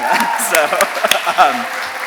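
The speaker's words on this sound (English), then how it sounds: "Can we all give a clap for queer romance fiction?" Brief scattered clapping from an audience at a public library author event, a few sharp claps mixed in with a speaking voice over a short moment.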